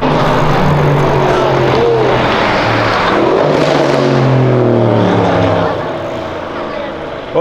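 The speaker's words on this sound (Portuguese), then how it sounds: "Olha o escapamento do carro, velho." A Lexus fitted with a 2JZ engine revs hard on a city avenue in Brazil, its exhaust roaring loudly, with people talking over it before the roar eases off near the end.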